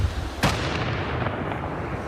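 Police bomb unit's controlled detonation on a city street block, heard from a nearby hill across the road: a sharp blast strikes, then a sustained low rumble with fainter secondary cracks trailing behind.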